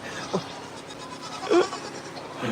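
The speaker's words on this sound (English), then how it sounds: "The stampede of goats." A herd of goats at a farm gate, two short bleats rising above a noisy background of milling animals.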